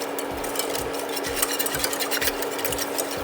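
Rhythmic scraping of a whisk in a bowl as sweetener is whisked into a vegan ice cream base, quick repeated strokes close up with no talking.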